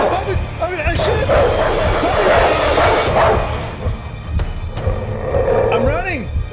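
Dogs barking and yipping in an atmospheric horror video game, several sharp barks and whimpers over a rumbling game soundtrack, with someone shouting excitedly over them.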